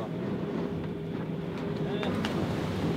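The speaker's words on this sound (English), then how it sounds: "the wind's picking up" Wind blows outdoors, a steady rushing roar and microphone buffeting that continues without a break.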